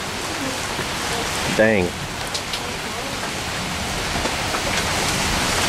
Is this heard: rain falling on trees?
yes